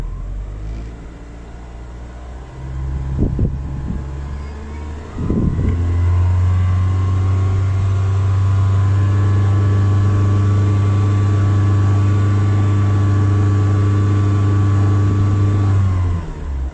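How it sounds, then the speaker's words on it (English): A 2000 Holden Astra Z18XE engine with a failing mass air flow sensor idles roughly, then the accelerator pedal is pressed and it jumps to a loud, steady, sustained rev that holds for over ten seconds before dropping away. "Alright, guys, I'm going to rev the accelerator pedal."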